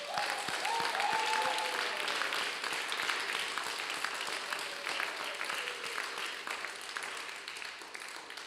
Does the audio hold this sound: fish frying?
no